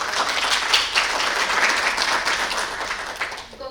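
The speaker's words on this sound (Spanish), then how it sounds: "Un aplauso para el doctor." A dense wave of audience clapping fills a conference hall at an academic ethics event, loud and sustained throughout before tapering off at the end.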